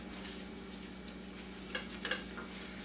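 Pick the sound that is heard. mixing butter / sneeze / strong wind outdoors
mixing butter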